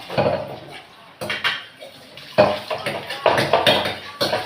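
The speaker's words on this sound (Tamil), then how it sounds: "கொஞ்சம் கொஞ்சமாக தேய்க்க தேய்க்க மற்றதெல்லாம் கழுவி அடுக்கி வச்சுருவேன்." Dishes, pots and utensils being washed under a lightly running tap and stacked in a home kitchen sink, with close, irregular clinks and clatters in bursts over a low watery background.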